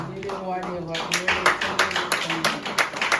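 A church congregation claps in praise of the king of kings, sharp uneven claps building from about one second onward, with a voice speaking or singing underneath at the start.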